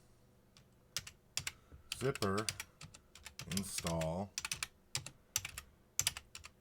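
A command is typed on a computer keyboard at a Linux KDE desktop console: brisk, irregular bursts of close plastic key clicks, interrupted by someone speaking between them.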